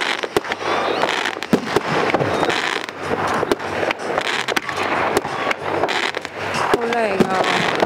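Fireworks at a winter fireworks festival on frozen Lake Akan, Hokkaido, pop and crackle in rapid bursts with sharp bangs over constant crowd noise, and people can be heard talking nearby.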